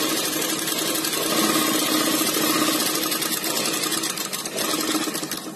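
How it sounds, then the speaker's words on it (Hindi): A sewing machine stitching a straight seam on rough practice fabric, a steady rapid mechanical whirr running continuously and close by with no pauses. "शुरू में हम धीरे धीरे मशीन चलाकर अपनी सीधी सिलाई कर सकते हैं"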